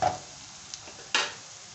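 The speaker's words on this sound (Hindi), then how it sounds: "अदरक लहसुन मैंने कूट कर लिया है, इसे हम हल्का सा फ्राई कर लेंगे।" Crushed ginger and garlic fry lightly in a pan, giving a soft steady sizzle with a few brief louder bursts of stirring.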